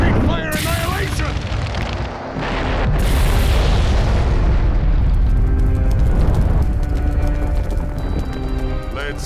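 Fire-style jutsu attack in Naruto Ultimate Ninja Storm 3 bursts into a loud, sustained roaring explosion with crackling rumble, dense and continuous for several seconds as battle effects swell and fade.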